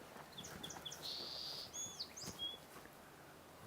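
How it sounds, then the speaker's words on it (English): A song sparrow sings a few bright, high chirping phrases at Sargeant Bay, faint and distant against steady outdoor background noise. "Here's the song sparrow here that we hear."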